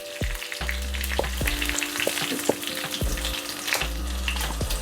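Curry leaves and asafoetida sizzle in hot oil for pepper rasam, a continuous close frying hiss dotted with crisp pops and a few soft utensil taps, with no speech.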